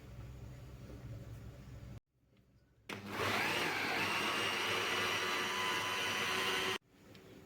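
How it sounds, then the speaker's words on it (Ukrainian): A kitchen blender purees zucchini with dill, garlic and processed cheese into a smooth paste, a loud steady whirring run of about four seconds that starts after a brief pause and cuts off sharply. "І це все разом перебиваю в однорідну масу."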